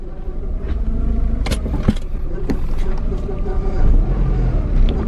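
A Honda EF hatchback with a swapped B17A1 engine drives along, a steady close engine rumble with a few clicks and knocks from inside the car and some talking.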